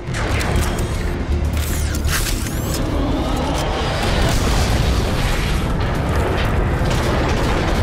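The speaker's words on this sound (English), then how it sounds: "Warp cannons. Megatron isn't holding back anything this time. It's targeting the Ark" Warp cannon blasts in the Transformers: Fall of Cybertron video game: loud, booming explosions and heavy mechanical rumbling fill the whole stretch, with sharp bursts early on and a dense, continuous roar after.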